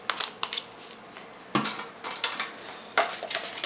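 Bleach powder and developer being mixed in a bowl for lightening hair, with close scraping and clinking taps in short irregular bursts and brief pauses, no talking.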